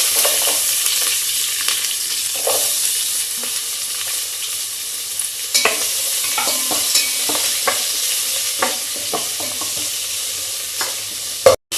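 Bay leaf, mustard seeds, cumin and a little onion fry in hot oil with a steady loud sizzle, while a spoon scrapes and stirs the pan in scattered clicks.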